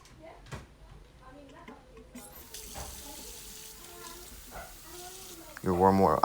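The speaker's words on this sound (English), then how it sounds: "add warm water from the faucet" Warm water runs steadily from a kitchen faucet while bread dough is being mixed, a soft constant hiss under quiet background sounds that swells to a louder splash as the flow increases near the end.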